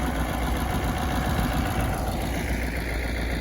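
A tractor's diesel engine runs steadily close by, a constant low rumble and mechanical clatter with no pauses or voices.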